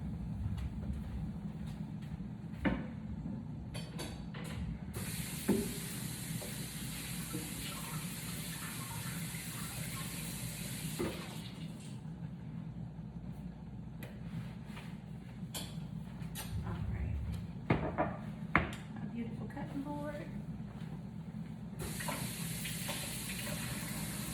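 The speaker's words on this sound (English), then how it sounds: "So I'm going to rinse off my cutting board." A cutting board is rinsed under a running kitchen tap, a steady close rush of water with occasional bursts of spray and brief knocks as the board shifts, continuing for a long stretch with no talking.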